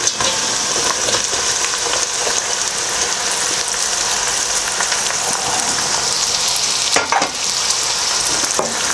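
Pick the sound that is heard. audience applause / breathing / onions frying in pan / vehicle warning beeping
onions frying in pan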